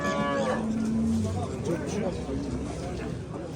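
A dairy cow at a livestock market lows loudly once up close, a drawn-out moo over a background of crowd noise and voices talking.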